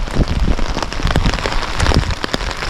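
Rain falling outdoors at a woodland trail dig site, a steady, close, heavy patter of drops on surfaces with a dense hiss throughout.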